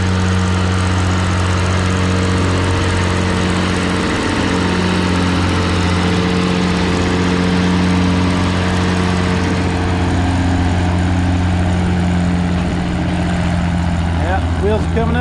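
An Allis-Chalmers style WD-45 diesel tractor drones loudly and steadily under heavy load while pulling a weighted sled at a fall tractor pull, with a constant low engine roar throughout.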